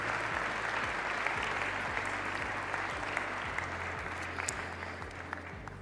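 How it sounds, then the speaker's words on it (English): Steady applause from a crowd at a US-Saudi investment forum, many hands clapping continuously at an even level throughout, with no voices standing out. "a big round of applause"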